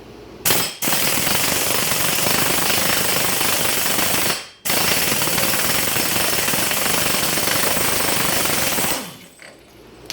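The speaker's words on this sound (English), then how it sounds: "we can got the 30 millimeter, and gonna take off the axle nut" Impact wrench or air gun removing a Saturn Ion front axle nut with a 30 mm socket: two long loud continuous hammering bursts separated by brief pauses, close up, no talk.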